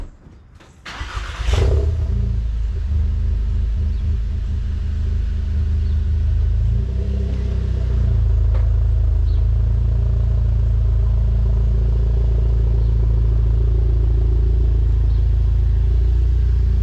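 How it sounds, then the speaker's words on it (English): A VW MK7 GTI engine starts with a sharp crank, then settles into a loud, steady close-up idle rumble that holds for the rest of the clip. "we're gonna go ahead and move this car."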